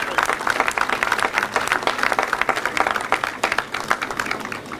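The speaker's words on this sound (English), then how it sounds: "I'd like to give them a big round of applause." Audience applause at a Hostess Brands ribbon cutting in Emporia, a steady patter of many hands clapping that fills the whole stretch at moderate loudness, with no talk over it.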